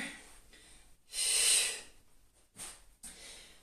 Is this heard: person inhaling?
yes